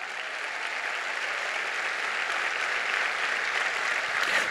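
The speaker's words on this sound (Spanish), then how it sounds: "dale fuerte ese aplauso al Cristo de la gloria" A church congregation at a Sunday morning service gives sustained applause, a dense even wash of many hands clapping that holds steady and swells slightly toward the end.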